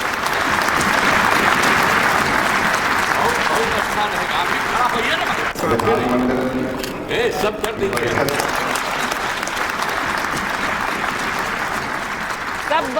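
A large crowd claps steadily at a Bihar political gathering welcoming new chief minister Samrat Choudhary, the applause loud and continuous throughout while a voice speaks over it.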